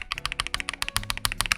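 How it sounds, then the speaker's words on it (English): Typing on a Lychee Gaming G80 mechanical keyboard with lubed KTT Rose switches, a close, quick run of crisp, clean keystrokes in an uneven rhythm, heard alone. "as long as the switches are lubed, it sounds really clean. And this is the KTT Rose."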